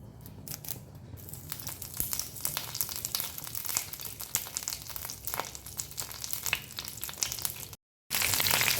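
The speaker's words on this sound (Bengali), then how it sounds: "ঘি গরম হতে কিন্তু খুব বেশি সময় লাগে না এবার দিয়ে দেবো কারি পাতা যেটা রেখেছিলাম আমি" Curry leaves crackle and spit as they drop into hot ghee, a busy run of sharp pops and sizzle close by, cut off briefly near the end before a bright hiss resumes.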